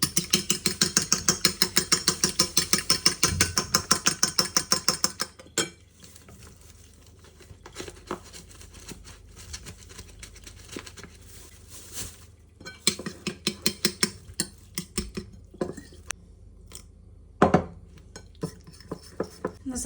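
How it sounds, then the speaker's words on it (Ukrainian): Egg and flour batter being whisked in a bowl: a fast, even rhythm of clinking metal strokes at first, then sparser, irregular taps and scrapes, close and alone. "Готуємо кляр одне яйце, збиваємо, додаємо трошечки борошна."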